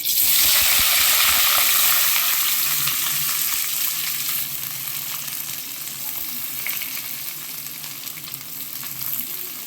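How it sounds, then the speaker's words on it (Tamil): Onions sizzle and fry in hot oil for a sprouted green gravy, a steady loud crackling hiss throughout, easing slightly toward the end, with no speech. "நல்லா வெங்காயம் வதங்கிடுச்சுப்பா"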